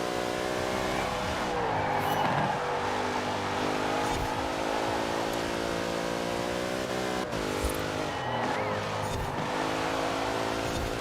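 A Dodge car driving in Forza Horizon 4, its engine droning steadily at high revs with some tire squeal, loud and continuous with no talk over it.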